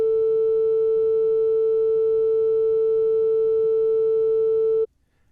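A pure, steady 444 Hz tuning fork tone holds at one pitch for nearly five seconds, loud and clean, then cuts off abruptly into near silence.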